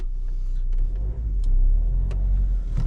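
A 2013 Vauxhall Mokka 1.7 diesel runs at a steady low rumble, close by, fitted with a new clutch and dual mass flywheel, with a few light clicks over the idle.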